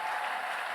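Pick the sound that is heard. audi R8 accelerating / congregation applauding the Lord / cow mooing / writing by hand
congregation applauding the Lord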